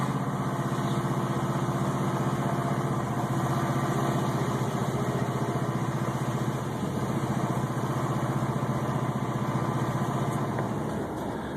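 A Volvo car engine running on water fuel idles steadily and loudly with a rough, constant drone throughout, no voices present.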